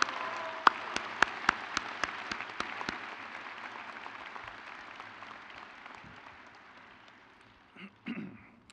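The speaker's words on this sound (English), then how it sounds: "a round of applause for all of our staff who came in today" Audience applause at a medical school white coat and convocation ceremony, a broad crowd of clapping with a few sharp nearby claps early on, fading gradually over several seconds before brief murmurs and shuffling.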